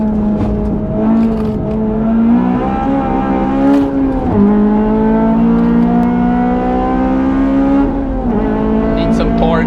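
A Honda Civic FD2 Type R engine at the Nürburgring drones loudly from inside the car, pitch climbing through revs with brief drops at gear changes, a sustained strong buzz throughout.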